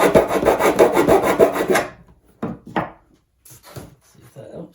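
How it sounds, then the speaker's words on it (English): Hand filing of a 3D-printed composite canopy for an RC Dragon II model: a steady run of close, rasping back-and-forth strokes for about two seconds, then a few short separate scrapes, with no talk. "I think what I need to do is file this one down a bit."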